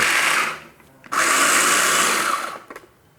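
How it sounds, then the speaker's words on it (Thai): A blender coarsely chopping chili and garlic whirs in two loud bursts, a short pulse and then a longer steady grind, with a brief rattle as it winds down. "ผมจะมาทำการ ปั่นพริกแล้วก็กระเทียมนะครับปั่นหยาบๆ นะครับ"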